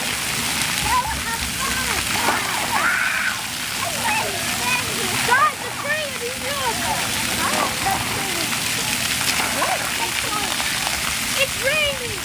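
Water spraying and splashing at a splash pad, a continuous rain-like hiss and patter with children's voices and chatter throughout.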